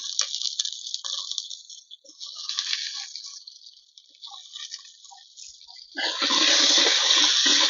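Salted cut eggplant pieces are tipped into a hot pan for an eggplant and fresh cowpea pulusu. A steady high sizzle runs throughout and swells into a loud, rushing hiss near the end as the wet pieces hit the pan, with no talking.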